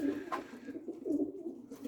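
A racing pigeon coos in low, throaty bursts, fairly close and moderately quiet, with a brief higher sound near the start.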